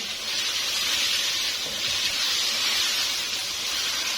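Garlic paste for chicken karahi frying in a hot pan, a continuous close sizzling hiss that stays steady throughout, with no talking.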